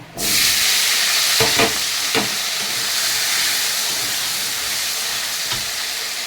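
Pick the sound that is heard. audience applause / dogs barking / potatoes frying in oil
potatoes frying in oil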